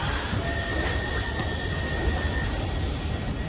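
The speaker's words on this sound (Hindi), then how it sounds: "मेट्रो में बैठ गए हैं, अभी सिटी सेंटर की तरफ जा रही है" A metro train running toward Amsterdam city centre, heard from inside the carriage as a steady, loud rumble of wheels on rails with a faint high squeal threading through, no talking.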